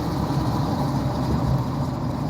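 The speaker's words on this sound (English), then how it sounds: "A lot of big trucks like that make road noise." Big trucks on an expressway give off a steady, low road rumble, a continuous drone at moderate level with no breaks.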